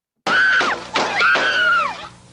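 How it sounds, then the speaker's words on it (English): Screaming in an archival recording of the May 15, 1972 shooting of Alabama Governor George Wallace: a loud, sustained wavering cry lasting about two seconds, with a brief break midway. "Can you hear that? Do you hear the screaming?"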